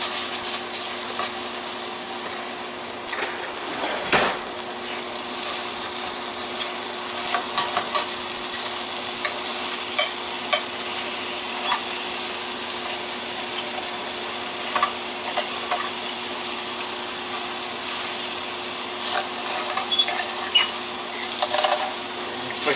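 Steak and chicken fajita meat sizzles and crackles steadily in a hot pan, browning as it is stirred, a loud, continuous frying hiss with scattered pops and no talking.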